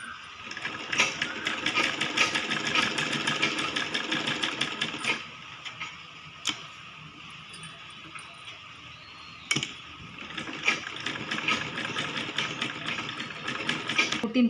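Sewing machine stitching a kids' lehenga, close rapid whirring runs of stitches that stop for a pause midway and then resume, with a few sharp clicks between bursts.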